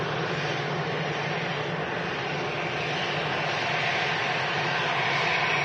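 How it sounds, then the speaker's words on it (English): easyJet airliner arriving from Paris at Manchester Airport, a steady broadband jet roar heard at moderate distance, holding fairly constant and swelling slightly toward the end. "This easyJet arriving in from Paris."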